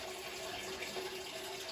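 Trickling water from a leaking relief valve on a Burnham Alpine boiler, a steady faint running hiss with a low hum beneath, continuous and unbroken, no talking.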